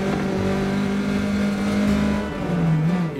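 Engine of a 1972 Alfa Romeo Berlina revving loudly, a throaty buzzing drone holding steady then dipping briefly as the pitch shifts, close and alone.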